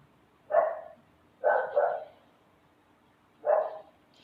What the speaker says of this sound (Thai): มันเห่าไม่หยุดเลย